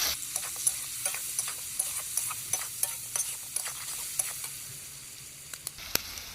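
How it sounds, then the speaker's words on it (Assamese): Pork pieces fry in a pan under steady stirring: a soft, constant sizzle with frequent light scraping ticks from the spatula, close by and fairly quiet. "আৰু এতিয়া আমি মাংসটো ভালকৈ বনাম।"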